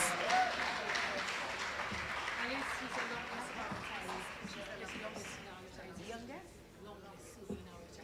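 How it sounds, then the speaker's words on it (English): Audience applause at a teachers' retirees dinner in a hotel banquet setting, a broad, steady wash of clapping lasting throughout and tapering slightly near the end, with some voices and crowd noise mixed in. "So let us give Miss Gloria Sevre a boisterous round of applause"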